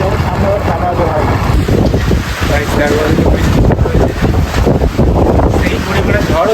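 Heavy rain and stormy wind hit a motorbike during a ride to Katwa, producing a loud, continuous roaring wash of wind buffeting and rain noise that goes on without a break, with faint talk under it.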